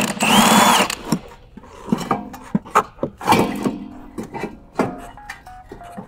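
A power tool loosens the coilover bolts on a VW MK5/MK6, starting with a loud sustained whir that is followed by short bursts and clanks of tool and metal parts.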